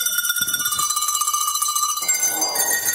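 Cowbells ring out a short melody on a French television variety show, with bright metallic strikes that sustain and overlap, loud and close, and no talking.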